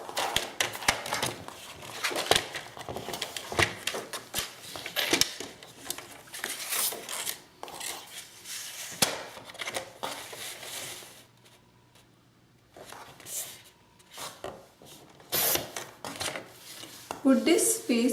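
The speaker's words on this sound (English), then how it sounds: "So go ahead and cut, like measure 8 inches and cut it." Scissors cut scrap paper for a scrapbook page at a craft table, with a busy run of crisp snips and paper rustles, a quiet gap, then more cutting handling toward the end.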